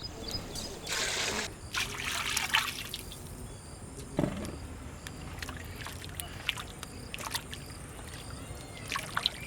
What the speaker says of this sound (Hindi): टैमरिंड जूस ऐड करते ही थोड़ा सा पानी भी ऐड करेंगे।